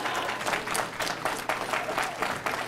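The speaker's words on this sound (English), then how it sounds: "I thought you guys might want to clap here." Audience applause at a Radnor school board business meeting, a steady wash of many hands clapping in a room, moderately loud and continuous with no speech over it.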